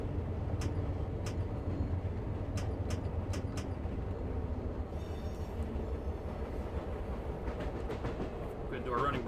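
Amtrak Southwest Chief passenger train in the Run 8 simulator, a steady low rumble of rolling wheels with sharp periodic clicks over rail joints, while someone talks quietly over it.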